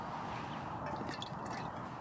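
Water being poured into a small pot of an ultralight cook kit set on a burning stove, a steady soft liquid splash and trickle running throughout at close range.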